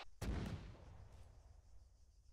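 A single artillery gun blast in a video game, a sharp loud boom followed by a rumbling decay and low background hum, no voices.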